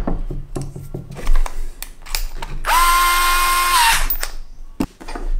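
A Bosch GO cordless screwdriver set to screw mode gives a loud, close motor whine lasting just over a second, with scattered handling clicks and taps before and after.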